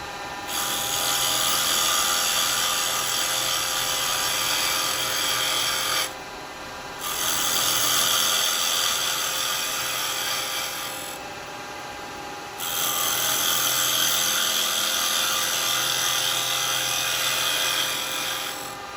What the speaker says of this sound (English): I'm gonna use a square carbide for a minute, just to allow me to get